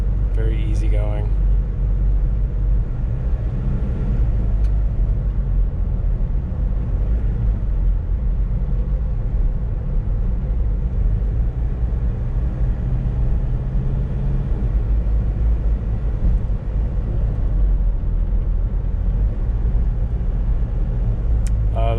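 A 1994 Ford Spectron diesel 4WD drives steadily in traffic, its low engine and road rumble continuous and even throughout, with no talk over it.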